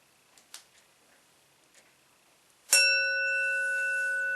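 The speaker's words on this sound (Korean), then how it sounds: "종소리를 듣고" A meditation bell is struck once after a few faint taps and clicks. Its clear, bright ring sustains steadily and close for several seconds with long, even overtones.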